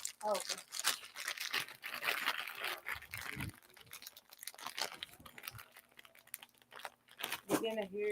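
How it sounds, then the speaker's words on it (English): Eating Cheetos, with close crinkling of the snack bag and crunchy chewing bursts scattered throughout, while people talk intermittently over and between the sounds. "If you hear loud crunchings, because I'm eating a Cheeto."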